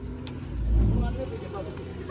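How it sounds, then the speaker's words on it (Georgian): Trucks rumbling outside in a village where concrete is being poured, a low engine drone swelling briefly then settling, heard at a distance under a voice. "რაღაცას გუგუნებენ მანქანები გარეთ"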